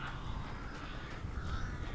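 Crows cawing in the video game Alan Wake, several harsh caws repeating from a flock over a constant rushing ambient background, moderately distant, no talk.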